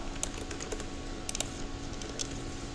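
Someone types a timecode on a computer keyboard, a short run of light, close key clicks with a couple of quick bursts in a quiet room.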